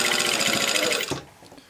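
Sewing machine running steadily while top stitching the skirt of a wrap dress, a close, continuous rapid whirring that cuts off abruptly near the end.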